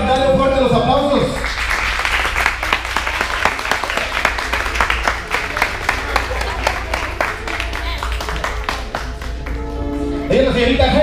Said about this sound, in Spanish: Vamos a brindarle un fuerte los aplausos